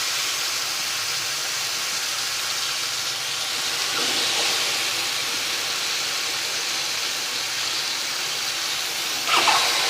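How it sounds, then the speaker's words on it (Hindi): Marinated chicken pieces for degi chargha dropped one by one into a hot pot, a steady loud sizzling hiss throughout with a couple of brief sharper crackles as pieces go in. "ये मैं अब एक एक पीस करके इसमें डालने लगी हूँ"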